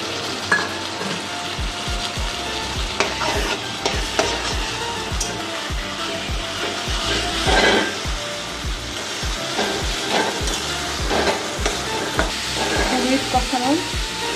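Coconut, tomato, ginger and green chillies sizzle steadily in a hot pan for a ridge gourd and prawn curry while a utensil scrapes and stirs in regular strokes, close and clear, with no talking.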